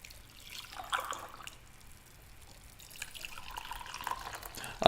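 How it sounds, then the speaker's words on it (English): Coffee poured into cups during a coffee livestream: a soft, continuous liquid trickle and splash with faint dripping, fairly close but low in level, with no talk over it. "I wonder if you can actually hear the pour with the microphone"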